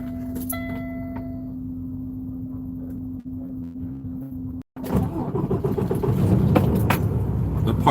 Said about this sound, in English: You guys want to come with me to back this truck up?